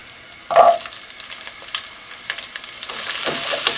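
Small whole onions dropped into hot sesame oil sizzle and crackle up close, starting with a sharp burst of frying and settling into a steady bubbling hiss as they cook for a Tamil mutton and chicken feast.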